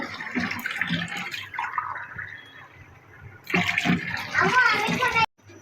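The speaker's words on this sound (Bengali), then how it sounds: "এই খিচুড়ির ভিতরে পানি দিয়ে রাখতেছি" Water splashes into a pot of khichuri on the stove, a gushing pour that swells in the second half and cuts off abruptly, with people talking over it.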